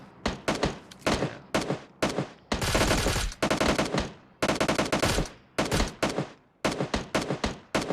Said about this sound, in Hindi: बहुत सारी गनशॉट्स की आवाज़ आ रही है मुझे।